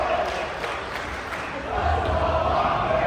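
Broad, steady crowd noise from a large indoor audience at a DreamHack esports arena, a continuous roar of many voices that swells louder partway through.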